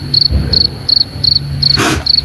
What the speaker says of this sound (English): literal crickets